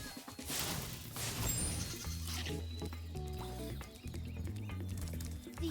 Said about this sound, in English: Sheep! Some sheeps.